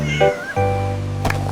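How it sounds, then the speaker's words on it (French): A cat meows in two drawn-out calls, close and clear, over a steady sustained musical tone from a children's song. "pendant que le chat Posy parcourait toutes les hauteurs."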